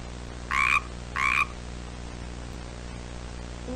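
Two short, loud frog croaks about half a second apart, each one clipped and emphatic, rising clearly above a steady background hiss and low hum.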